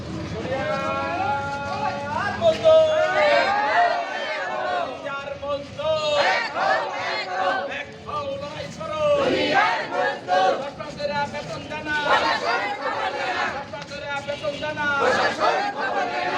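Crowd chanting slogans together at a protest over wages and layoffs, loud rhythmic shouted voices rising and falling in bursts throughout, with overlapping calls and babble close by.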